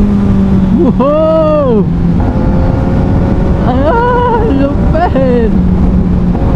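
Kawasaki Ninja 1000SX in sports mode revs its exhaust in loud, rising and falling bursts over heavy wind rush from riding, as a rider whoops and shouts excitedly.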